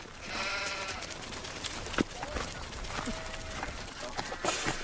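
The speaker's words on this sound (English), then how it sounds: "Bloody wandering sheep on the road." Sheep bleat repeatedly from a roadside, mixed with outdoor background noise and a few sharp transient knocks, fairly loud and continuous throughout.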